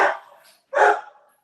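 A dog barks twice, close and fairly loud, with a short pause between the barks.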